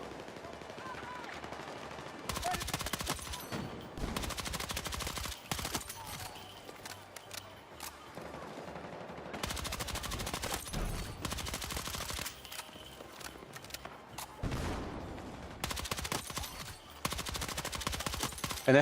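Rapid SMG bursts in the video game Battlefield 6, loud sustained automatic fire in several long strings separated by short pauses, with background game noise between bursts.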